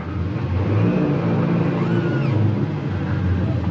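A Yamaha outboard boat engine idles at low throttle while docking, a close, steady low rumble with slight swells in revs as the throttle is feathered.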